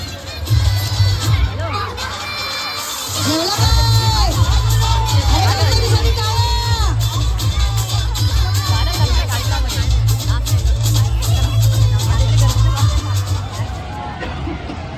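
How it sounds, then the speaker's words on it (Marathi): A dense festival crowd at the Sahyadri Mahotsav in Kandivali Charkop, Mumbai, fills the air with loud, continuous babble and shouting, while a voice talks near over the hubbub and a deep amplified hum runs beneath. "तर आज समजलं गर्दी काय सर्व गौतमी पाटीलला बघायला आले तिथे"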